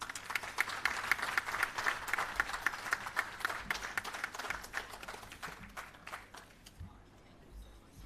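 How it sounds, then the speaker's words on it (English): Audience applause at a restorative justice facilitators' graduation ceremony: dense, steady clapping from a crowd that stays loud for about six seconds, then thins and fades, with scattered murmurs as it dies down. "Another round of applause, ladies and gentlemen"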